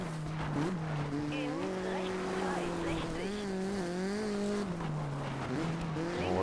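Rally car engine droning steadily in the Dirt 2 racing game, its pitch rising and falling as the car understeers through a corner, loud and continuous with a voice talking over it.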